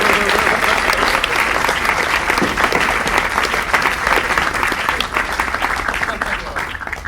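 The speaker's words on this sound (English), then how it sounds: "another round of applause for this great team, program committee" A conference audience gives a long round of applause at closing remarks, thick and continuous clapping that holds steady for several seconds and tapers slightly at the end, with voices mixed in.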